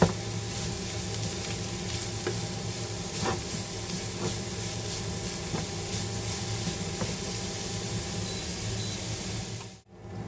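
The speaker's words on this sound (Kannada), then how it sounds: "ಈಗ ಬೀಟ್ರೂಟ್ನ ಹಾಕ್ಬಿಟ್ಟು ಚೆನ್ನಾಗಿ ಅದನ್ನು ಫ್ರೈ ಮಾಡಬೇಕು." Beetroot and onions fry in a pan, giving a steady, even sizzle with faint stirring scrapes throughout, then a brief drop near the end.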